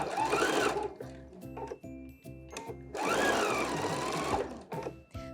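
A sewing machine stitches a seam on a summer wrap dress in two long, close runs of rapid, even needle thumping, separated by a stretch of shorter stop-start bursts.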